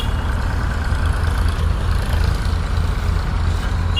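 A Mahindra Arjun Novo tractor runs with a steady, low engine rumble, droning evenly at close range, in a sugar cane hauling setting.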